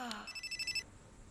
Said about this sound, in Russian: Это твой телефон.